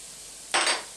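Raw asparagus bits and blanched broccoli dropped into a hot pan, a sudden close burst of sizzling that starts halfway through and stays loud to the end, after a quiet kitchen hush.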